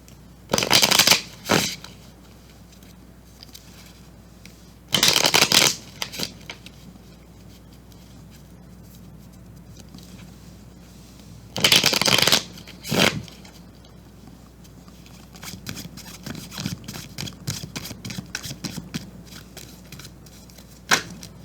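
Tarot cards being shuffled close to the microphone in several short, crisp riffling bursts separated by quiet pauses, with lighter shuffling and card handling toward the end.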